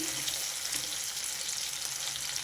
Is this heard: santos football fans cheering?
no